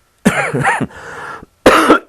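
Two loud, close coughing fits, each a cluster of harsh raspy coughs, separated by a brief pause.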